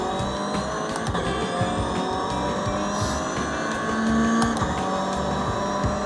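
A rear-wheel-drive car drives on after hard ABS braking on cold tyres, its engine droning steadily and loud close up with faint tyre noise and a brief swell near the middle, no talking.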